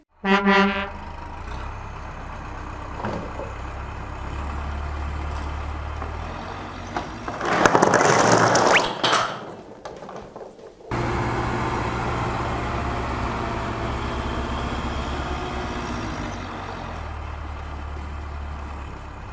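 A toy red dump truck rolls along and honks, with a short tonal horn at the start, steady low rumbling, and a louder rattling crunch midway as its load tips out.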